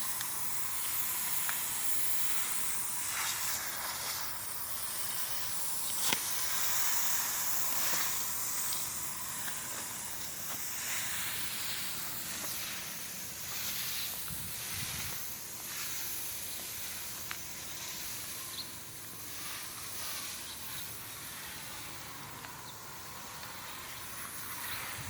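Cleaner is sprayed onto a sago palm to strip white scale, a continuous soft hiss of spray running steadily and faintly from start to end.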